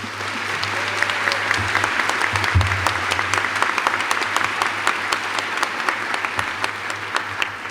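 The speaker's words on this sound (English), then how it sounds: "give them a round of applause" An audience at a medical school white coat ceremony in the Detroit Opera House applauds in a sustained, even round of many hands clapping, filling the hall for several seconds without speech.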